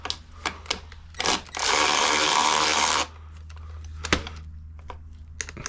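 Bolts coming out of the front sprocket cover on a V-Strom 1000 motorcycle: scattered close clicks and taps around a single loud burst of power-tool whirring lasting about a second and a half.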